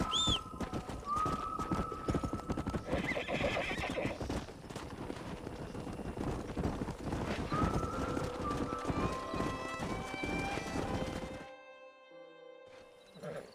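Horse hooves clip-clop steadily in the Red Dead Redemption video game, joined by loud neighs and whinnies over a busy game soundscape; the sound cuts off abruptly near the end, leaving a quiet tonal tail.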